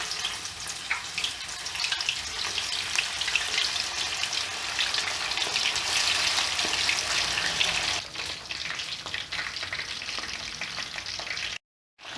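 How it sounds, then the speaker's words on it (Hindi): Masala-coated fish fries in oil over a medium flame, giving a steady, close sizzle and crackle that softens slightly near the end before a brief break. No one speaks. "मीडियम पे फ्लेम पे ये फ्राई करनी है"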